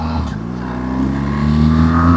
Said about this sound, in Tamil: இந்த மாதிரி இடத்துல தான் எக்ஸாஸ்ட் நோட் கொஞ்சம் லவுடா ஃபீல் ஆகுது